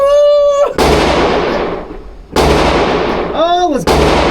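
Gunshots fired at a Miami shooting range: three sharp, loud, close reports, two of them following each other, with voices heard between the shots.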